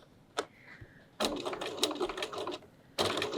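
A sewing machine back tacks over earlier top stitching on a fabric pouch, in short bursts of rapid mechanical stitching with brief pauses between runs, close and moderately loud.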